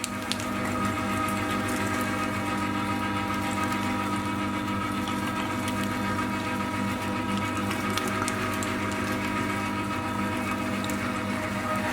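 A meat grinder mincing pieces of meat and fat fed in together, a steady loud mechanical whir with a continuous hum that holds constant throughout, with no voices.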